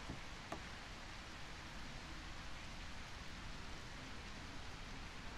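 Steady rain in the video game A Quiet Place: The Road Ahead, a soft, even hiss of falling drops that continues without a break, faint and with no voices.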